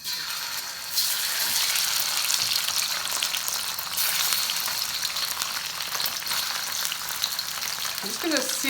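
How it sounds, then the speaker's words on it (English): Chicken searing in hot coconut oil in a pan for a Thai green curry, a loud steady sizzle that flares up as the meat hits the pan and keeps crackling, with some stirring and no talk. "I'm just going to sear this a little bit before I put my spices in"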